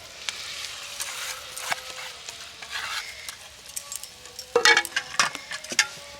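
Pea paste being stirred in a wok over heat, with a soft sizzle and intermittent scraping and clinking strokes of the spoon that grow louder and busier toward the end, close and without talk.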